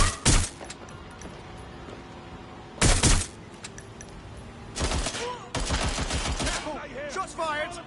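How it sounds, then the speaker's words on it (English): Several sharp bursts of gunfire in short clusters, loud and close, separated by quieter stretches with faint background noise, in the game Watch Dogs: Legion. "We've got gunfire!"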